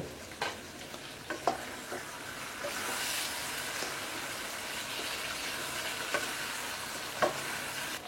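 Chicken biryani stirred in a pot after mace, nutmeg and cardamom powder go in, a quiet steady frying hiss with scattered spoon clinks and scrapes, no voices.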